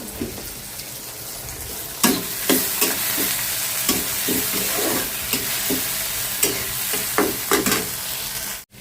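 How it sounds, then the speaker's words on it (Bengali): Spice paste with ground cumin sautéing in a pan for a fish curry, a low sizzle under repeated scraping stirs and clacks of a spatula at irregular intervals, close, ending abruptly. "তো মশলাটা হচ্ছে ভালো মতো কষাই নিলাম"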